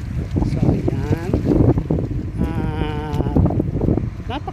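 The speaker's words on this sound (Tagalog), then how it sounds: "Napakalakas po ng hangin today." Strong wind at the seaside beside tall buildings buffets the microphone with a loud, continuous rumble, while a person talks through it.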